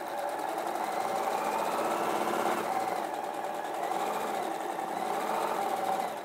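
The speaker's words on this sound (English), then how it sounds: "And sew your quarter inch seam." A sewing machine stitching a quarter-inch quilting seam runs steadily at close range, a fast continuous mechanical whirr and needle chatter without pauses.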